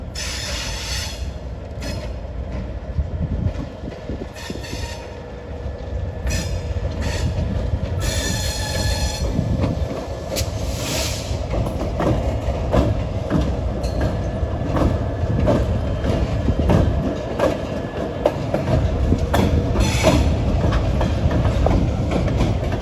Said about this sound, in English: They're arriving from the Rockville Bridge direction. There are a couple of General Motors units here.